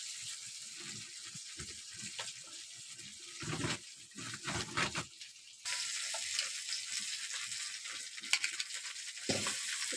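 Tomato fries in a pan over a clay stove, giving a soft, uneven sizzle that drops out and returns, broken by occasional stirring clatter.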